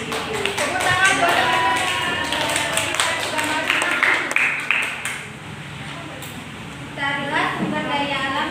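A class claps hands during an elementary school lesson, a steady patter of many small taps running beneath continuous talking, with a teacher's voice over it.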